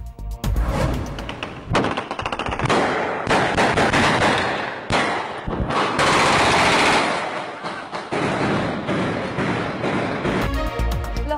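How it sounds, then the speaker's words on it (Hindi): Aerial gunfire celebrating a bail approval in Karachi, with dense, rapid bursts of shots cracking loudly in long volleys and near-continuous rattling over several seconds. "हवाई फायरिंग की नई फुटेज मंजर आम पर आ गई"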